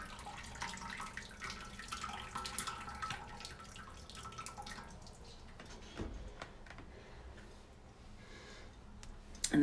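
Homemade chicken stock pours and splashes from a large tipped bowl through a strainer, a continuous trickling, watery flow up close that thins out toward the end.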